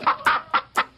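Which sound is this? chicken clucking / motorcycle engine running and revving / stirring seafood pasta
chicken clucking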